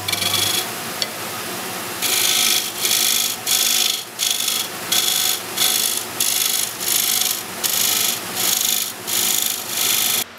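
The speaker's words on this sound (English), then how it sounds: "Then I want to cut this way so that we have a little bit of a bevel going in towards the piece." A carving tool cutting a bevel into wood on a turned piece, a repeated rhythmic rasping scrape of about a dozen even strokes, close and loud with no talking.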